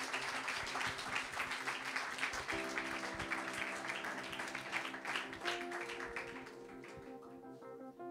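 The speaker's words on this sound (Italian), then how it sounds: "vi chiedo un grande, grande applauso per ricevere Marco Marsili con noi" A seated audience at an evening talk in Codiverno di Vigonza applauds evenly for several seconds, with soft background music underneath, then tapers off.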